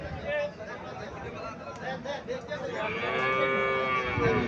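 A cow moos loudly and close by, a long low drawn-out call, with people chattering in the background.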